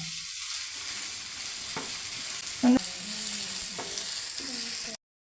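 Tomato frying in an oily pan for soya fry gives a steady close sizzle throughout, with a few soft stirring knocks and one brief clink, ending abruptly.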